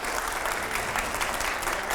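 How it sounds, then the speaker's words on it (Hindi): Studio audience at a televised Hindi political interview show claps steadily, a dense, even wash of applause with no voices over it. "जरा जोरदार तालियां प्लीज"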